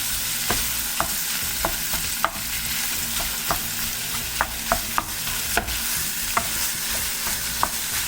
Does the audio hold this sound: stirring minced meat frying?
yes